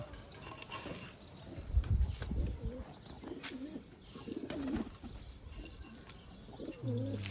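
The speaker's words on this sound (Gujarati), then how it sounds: "જો આપણા કબૂતર ચણે" Pigeons cooing repeatedly in soft low warbling phrases, close by, while pecking grain, with light pecking taps and faint chirps mixed in.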